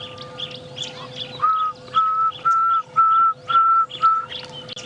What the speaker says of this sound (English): That's the pearl-spotted owl, the start of the pearl-spotted owl call.